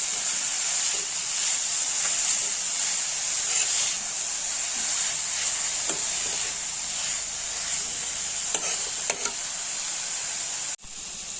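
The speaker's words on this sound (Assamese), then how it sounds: "ইয়াতে দি আকৌ লৰাই পেলাই আকৌ সেইখিনি ইয়াৰ লগত বিলাহীৰ লগত পালেংখিনি সিজিব দিম।" Spinach leaves and tomatoes simmering together in a pan, giving a steady close hiss and sizzle with a few faint clicks of stirring, no voices.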